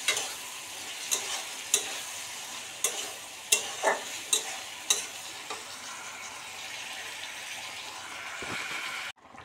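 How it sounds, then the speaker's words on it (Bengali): Eggplant curry sautéing in a pan, a steady sizzle broken by repeated sharp scrapes and clanks of a spatula stirring against the metal, then an abrupt stop near the end, with no talking. "বেগুন তরকারি সাতলি"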